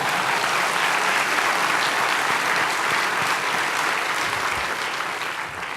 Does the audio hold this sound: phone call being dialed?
no